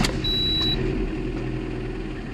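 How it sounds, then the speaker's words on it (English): A Lada car engine starts after an oil change and idles with a low, steady rumble, a brief high electronic beep sounding at the start. "Start the car."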